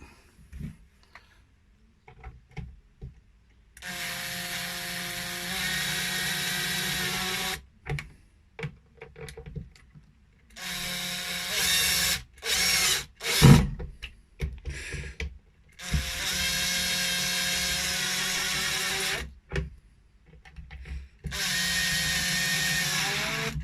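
A power drill drives screws while a micro tilt kit is fitted, running in several long sustained bursts separated by pauses, clicks and handling knocks, loud and close.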